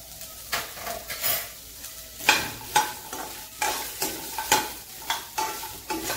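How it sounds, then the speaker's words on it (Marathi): Chopped onions sizzle steadily in hot oil in a pan, with a series of scraping stirs roughly every half second, set against a continuous crackling fry for a Marathwada-style umbar handi. "आता खोबरं काढून घेतल्यानंतर आपण कांदा घेतोय, परतून चांगला काळा होईपर्यंत भाजायचं आपल्याला।"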